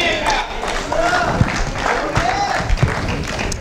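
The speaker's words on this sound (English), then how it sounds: "I didn't expect to get that many claps" Audience applause fills a church sermon hall, a dense, steady wash of clapping with crowd noise and a preacher's voice running over it.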